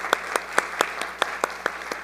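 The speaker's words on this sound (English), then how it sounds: "we should all give her a big round of applause" Applause from a small group, a steady run of distinct claps in an even rhythm, close by and fairly loud, with no voices.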